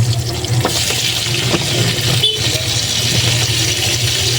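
Chicken feet hitting a pan of sautéed onion and garlic for adobo, a loud continuous sizzle with stirring scrapes and a few clinks, no talking.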